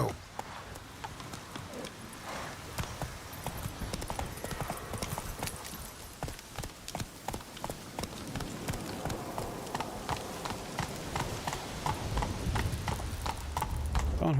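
Rapid clip-clop of a horse galloping in The Witcher 3: Wild Hunt, a steady dense hoofbeat rhythm running the whole time under game ambience, with a person talking over it.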